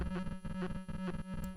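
A digital Korg Monologue synth tone with a square-wave LFO, chopping on and off in a fast, regular stutter, alternating between two levels in a choppy rhythm, loud and close.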